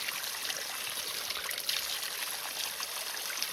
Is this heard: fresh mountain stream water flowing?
yes